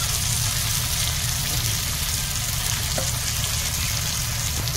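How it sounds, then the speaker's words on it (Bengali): Water poured into a hot pan of fried chilli-powder masala for chicken curry, giving a steady, loud broadband sizzle and hiss that runs unbroken throughout with no talk. "মরিচের গুঁড়ো কষা হয়ে গেছে, এবার জল দিয়ে দেবে মা"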